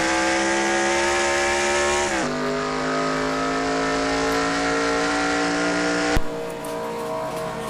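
A NASCAR race car in a video game drones steadily at high revs as it drives past, with a gear shift midway and an abrupt cut to a different engine tone near the end.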